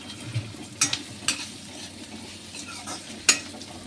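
Onions fry in a pan with a soft, low sizzle. A few sharp, close clinks and scrapes of a spoon stirring against the metal break it at irregular moments, and nobody talks.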